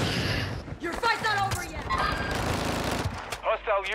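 Rapid automatic gunfire from the Warzone video game, dense bursts of shots with booms and impacts filling the scene as players talk excitedly over the fire.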